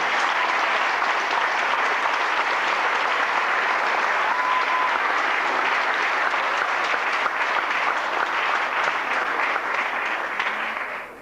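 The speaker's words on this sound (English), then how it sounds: "Please give Dean a round of applause." A university audience at a fireside chat gives the Dean of Residence Life a round of applause: a full, even wash of many clapping hands lasting over ten seconds, easing slightly before it stops abruptly.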